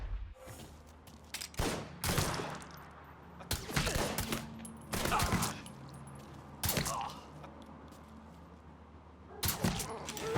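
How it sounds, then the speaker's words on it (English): In Mafia III: Definitive Edition, gunfire crackles in sharp separate bursts spread across the stretch, some loud and close and others quieter, with a low hum between volleys. "He's gunning us down."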